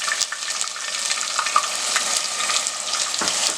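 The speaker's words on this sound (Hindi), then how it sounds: "और अब मैं अपनी फ्लेम को एकदम स्लो करूंगी और मैं ये अनियन पेस्ट ऐड करूंगी।" Onion paste frying in desi ghee in a pan over a low flame, giving a steady, close hiss and crackle with occasional faint stirring scrapes.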